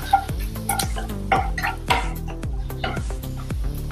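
Cumin seeds and asafoetida are stirred in hot oil in a pan, a metal spoon scraping and clinking against the pan in a steady rhythm with a light sizzle underneath.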